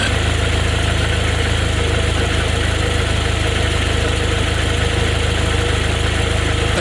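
A Jeep Wrangler TJ with a 2.5-liter four-cylinder engine idles smoothly and steadily, close up and loud. The hum stays constant throughout with no voices present.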